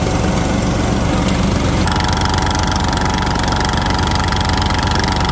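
A Toro Time Cutter riding mower runs its engine, fed on fresh gas with Berryman's additive, in a loud, continuous, steady drone with a rapid pulsing beat close by, shifting slightly in tone partway through.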